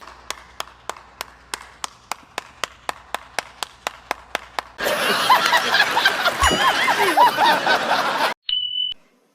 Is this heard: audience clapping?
yes